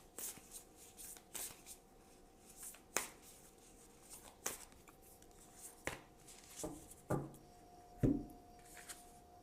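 Tarot cards are shuffled in a quiet room, giving sharp, separate riffling snaps and slaps spaced a second or two apart, with a soft hum underneath and no voices.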